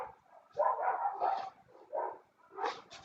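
A dog barks in a series of four or five short, mid-pitched woofs with brief whimpering tones, close by and fairly loud, spaced irregularly with quiet gaps between them.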